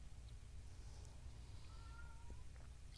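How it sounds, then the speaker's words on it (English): A pet cat meows faintly and briefly a couple of times, thin rising calls at a distance over a low background rumble, with no talk during the sounds. "I hear a cat."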